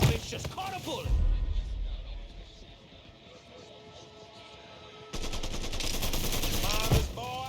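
Gunfire from the Mafia 3 video game: dense bursts of shots at the start and again near the end, loud and close, mixed with shouting voices and in-game dialogue.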